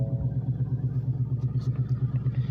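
A Ford Mustang GT engine idles just after starting, a steady low rumble pulsing evenly throughout, close and fairly loud, with no talk.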